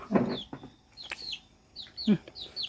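A chicken on a farm near Davao City gives a few short clucks and squawks at close range, mixed with faint human voices.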